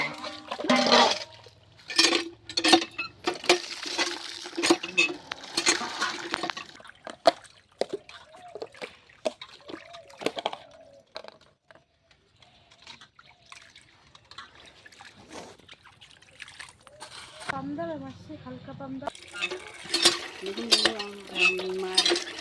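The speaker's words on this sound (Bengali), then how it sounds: "দেখুন বন্ধুরা আমার মাছটা ধোয়া হয়ে যাচ্ছে।" Small lata fish being washed by hand in water in a home kitchen, with repeated splashing, trickling and sloshing plus clinks of a bowl or utensils, loud and close, in bursts with quieter pauses.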